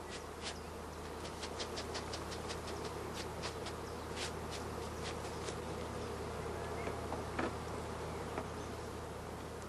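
Honeybees buzz on brood frames in a continuous, faint hum, with individual bees droning closer in short passes over a soft background.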